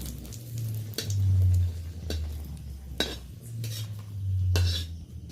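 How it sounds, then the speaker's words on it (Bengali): Dried red chillies frying in a little mustard oil in a wok, heard as several sharp metal clinks and scrapes of a spoon over a low, steady background hum. "শুকনো লঙ্কা কয়েকটা কড়াইতে দিয়ে দিলাম ভেজে নেওয়ার জন্য"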